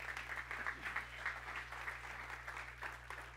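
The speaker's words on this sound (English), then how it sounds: "give yourselves a hand clap for helping do that" A church congregation claps together in a steady, dense patter that fills the room evenly from start to finish, with a low hum underneath.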